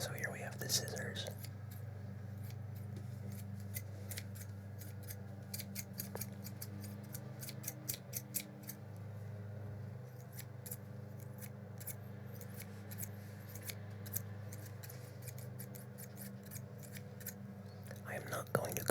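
Scissors snip and cut through various objects in close, crisp ASMR style, with sharp repeated cuts over a steady low hum and soft whispering throughout.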